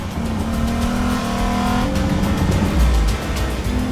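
A 2020 Lexus RC F's engine revs loud and close, a steady drone rising in pitch before dropping back near the three-second mark, with no talk over it.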